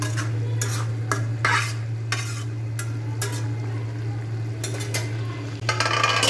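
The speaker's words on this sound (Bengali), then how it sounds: "সবজিগুলো একটু কষানোর পরে আমি শুটকিটা দিয়ে দিয়েছি" Vegetables and dried fish (shutki) being stir-fried in a pan: repeated scraping strokes of a spatula against the pan over a steady low hum and soft sizzle, close by, with no talk.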